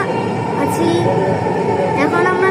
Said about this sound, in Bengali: এখন আমরা মেট্রো রেল আছি।